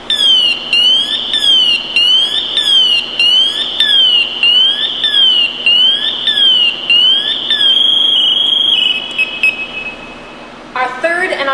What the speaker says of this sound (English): Our second check is to let it go all the way off into full alert mode